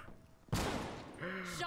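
Burst of assault rifle fire in Call of Duty Black Ops 3 erupts loudly after a quiet moment, a dense crackling volley that runs on under a raised, strained voice near the end.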